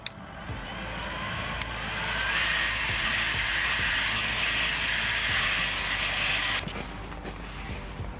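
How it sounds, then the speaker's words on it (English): A heat gun blows a steady broadband hiss while drying freshly painted jacking point covers from a Ford Fiesta Mk6 ST150, running continuously for about six seconds with faint clicks, then cutting off abruptly. "I thought I'd try the heat gun as well for this"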